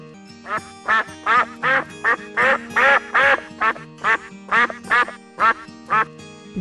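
A duck quacks repeatedly in a steady series of about a dozen loud, raspy quacks, close up and evenly spaced, over faint background music with no speech.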